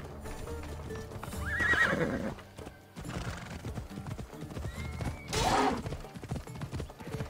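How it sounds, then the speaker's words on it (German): Horse in Assassin's Creed Odyssey galloping with rhythmic hoofbeats, breaking into loud whinnies twice, near and clear over in-game ambience. "nochmal das Pferdchen"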